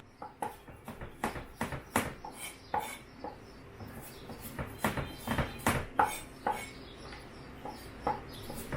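Carrots being mixed in a pot, a series of close, sharp clinks and scrapes of a utensil against the pot in an uneven, repeated rhythm.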